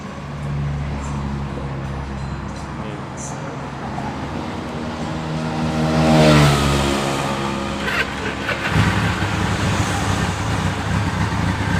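A Suzuki Katana GS1100E 1100cc motorcycle engine runs nearby, fitted with bearings in place of bushings, idling with a rumbling note and revving up once to a loud peak before settling back, while people talk over it.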